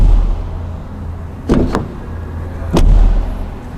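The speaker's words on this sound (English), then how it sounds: "you do get a door that sounds quite nice when you open and close it" Door of a 2023 Volkswagen Polo heard up close over a low engine hum: a pair of quick clunks as it opens, then a single solid thud as it shuts, with no talk.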